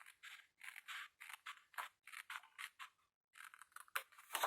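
Scissors cutting paper for a mobile scrapbooking drawer, a rapid run of close, crisp snips in short bursts with a brief pause, alone without talk.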